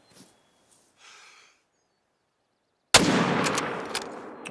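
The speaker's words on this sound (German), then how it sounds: "Der Schuss war auf jeden Fall deutlich besser." A single hunting rifle shot fires in theHunter: Call of the Wild in Yukon Valley. It comes as a sudden loud crack after near silence with a few faint sounds, then a rumbling tail that fades away.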